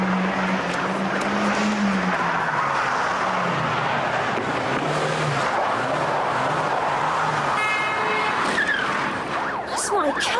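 A car engine roars loudly and continuously, with rising and falling revs and a brief squeal, like a vehicle speeding away.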